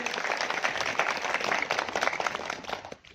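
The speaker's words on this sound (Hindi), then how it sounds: "आपको हमारी इस कमेटी की ओर से जोरदार तालियों के साथ स्वागत करते हैं।" Applause from a gathering greets a guest joining a community committee meeting, dense, steady clapping lasting about three seconds before it drops off abruptly.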